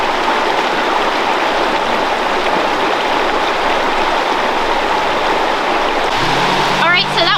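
River water in the Smoky Mountains rushes steadily around a swimmer, a loud, constant broadband flow, with a brief voice near the end.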